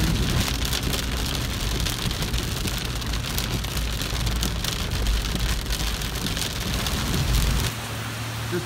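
Heavy rain pours steadily on a road trip with fog, a dense loud hiss of drops drumming on a surface, with a low rumble beneath that drops away near the end.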